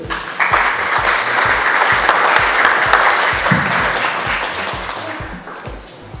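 A room of guests applauds the acting mayor at a Miss Bredene press presentation, sustained broad clapping with a low rhythmic thump running beneath it, fading somewhat toward the end.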